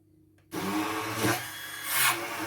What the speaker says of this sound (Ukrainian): Затим я беру блендер та блендером добренько все перебиваю.